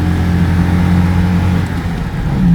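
A Citroën 2CV fitted with a 652 cc Visa engine revs steadily at moderate throttle, heard from close by as a continuous buzzing drone on a snowy drive, with no talk over it.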